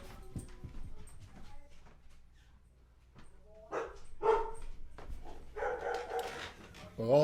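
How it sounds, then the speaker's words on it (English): Several dogs bark outside, sharp yaps and barks with some whimpering, fairly distant and intermittent, mixed with a person talking in a room. "all the dogs are barking out there."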